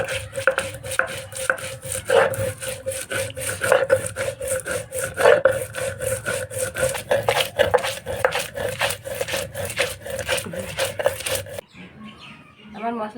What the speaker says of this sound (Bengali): প্রথমে আমি জিরে বেটে নেব।